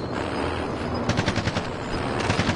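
Automatic gunfire in a shooting video game: a low rumble, then rapid, loud bursts of close machine-gun fire breaking out partway through and rattling on in quick repeated volleys.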